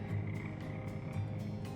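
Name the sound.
frogs croaking in a video game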